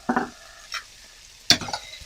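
A spatula scrapes and stirs chicken with oyster sauce in a sizzling pan for a tomato chicken dish, in three short bursts with quiet gaps between them.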